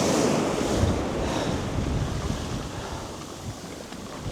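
Wind gusts steadily across an open shoreline and buffets the microphone, with surf washing in the background, continuous and fairly loud with no voices.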